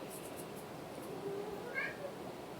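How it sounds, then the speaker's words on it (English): A pet cat meows once, a short, faint call close by in a quiet room, with low background noise and no talk. "You can hear my cat meowing"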